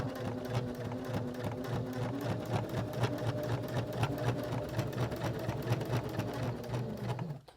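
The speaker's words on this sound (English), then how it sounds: "Now we're going to top stitch all the way around" A sewing machine topstitches around the pocket of a handmade fabric sewing kit, running in one steady, close, continuous stretch before stopping abruptly at the very end.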